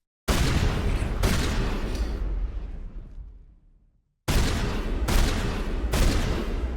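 Mass Effect gunfire in a combat scene: dense, loud sustained bursts of shooting that roar continuously, cut off and fade out into a brief silence, then resume in heavy repeated volleys.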